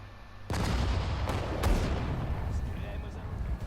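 Heavy artillery fire pounding the ground in Sudden Strike 4: a sudden loud boom that sustains as a dense, rumbling roar with a few sharper cracks layered in, all fairly close.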